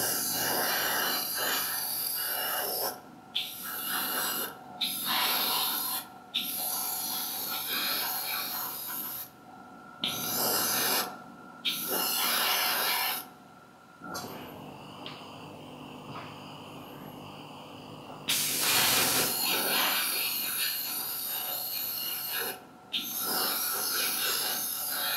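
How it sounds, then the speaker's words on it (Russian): An airbrush sprays primer onto a tank track for a 1/100 scale model, a close, steady airy hiss in repeated bursts broken by short and longer pauses as the trigger is released. "рука с аэрографом постоянно двигается, и деталь постоянно двигается, чтобы не было потеков"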